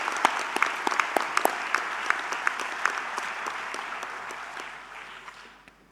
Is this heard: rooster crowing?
no